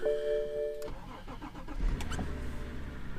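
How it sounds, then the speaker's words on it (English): A BMW E60 sedan with a cloned ECU cranks briefly and catches, the engine firing and settling into a low running rumble after a short starter whir. "Now the car should start."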